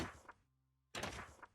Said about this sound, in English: It's like a trap door or something.